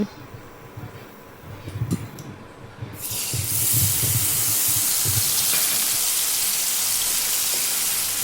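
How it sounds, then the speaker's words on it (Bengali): Mustard seeds and dried chillies hit hot oil for a Bengali mango fish curry, a sudden loud sizzling hiss that bursts in after a few quiet pops and keeps spitting steadily. "ওই তেলেই আমি ফোড়নে দিয়ে দিচ্ছি সর্ষে আর শুকনো লঙ্কা"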